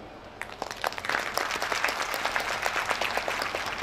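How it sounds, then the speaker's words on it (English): Parents in an audience applaud their children, a dense, steady wash of many hands clapping that swells in after a brief quiet start and continues alone at full strength. "I request all the parents present here to give your children a big applause for the same."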